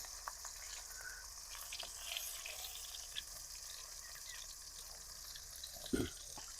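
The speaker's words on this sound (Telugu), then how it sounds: "చేపలు నూనెలో అనేది వేసుకుందాం ఇప్పుడు" Pieces of fish fry in oil for an Andhra village-style fish fry, making a soft, continuous sizzle and crackle with a single brief knock near the end.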